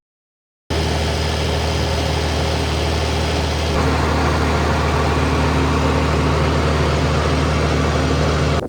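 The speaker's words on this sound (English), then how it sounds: "Tractor's home, hooked up to the baler." An International Harvester 966 tractor with a straight pipe idles close by, a steady loud low rumble with a slight change in tone partway through, and no talk.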